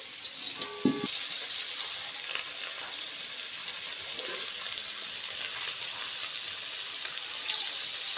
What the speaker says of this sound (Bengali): এখন আমি হাঁড়িতে জল দিয়ে দিচ্ছি।